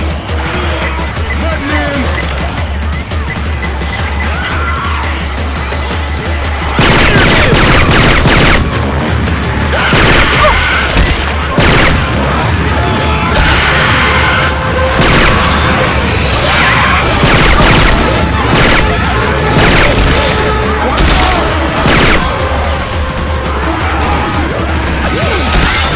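Left 4 Dead 2 gameplay fitted with Syphon Filter gun sounds, with heavy continuous gunfire, crashing impacts and booming grenade blasts in loud, dense bursts, while voices call out beneath the shooting.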